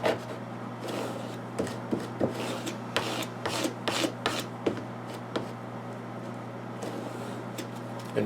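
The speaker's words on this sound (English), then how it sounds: "Alright, so I'm going to squeegee this down." Squeegee scraped firmly across a prop cigarette dispenser, close rubbing and scratchy strokes in short irregular passes, with faint knocks, over a low steady hum.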